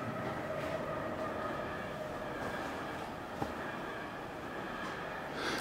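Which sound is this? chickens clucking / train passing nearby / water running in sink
train passing nearby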